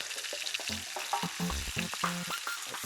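Meat sears in a hot frying pan with a steady crackling sizzle, broken by small clatters and taps of a utensil, close and continuous.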